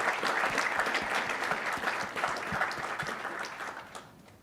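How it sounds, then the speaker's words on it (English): A conference audience at a central bank's annual conference gives a round of applause, brisk, dense clapping that starts full and gradually thins and fades toward the end. "I would like to close with a round of applause to everybody"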